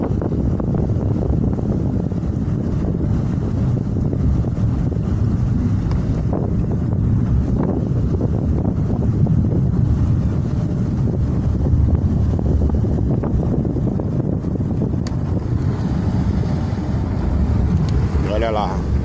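The ship Ilha da Madeira churns the water while anchoring, a continuous heavy rushing roar with strong wind buffeting the microphone throughout.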